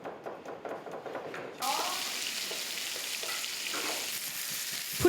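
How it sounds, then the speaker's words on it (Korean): Food frying in a pan in a vocational high school's culinary training kitchen: after a short quieter stretch of kitchen clatter, a loud, close, steady hiss of sizzling kicks in abruptly and continues to the end. "프라이팬에서 음식 익어가는 소리가 요란하게 들립니다"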